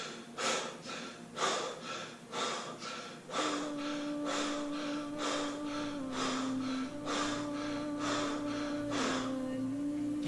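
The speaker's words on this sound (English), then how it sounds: "So this is just basically the breath work." Deep, forceful breathing exercise: rhythmic sharp inhales and exhales repeated about a dozen times in quick succession, close and loud, with a steady low musical tone entering behind partway through.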